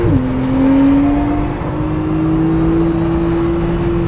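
GT3 race car engine droning loudly on the throttle, a steady high tone that dips once briefly and then climbs gradually over a constant rumble.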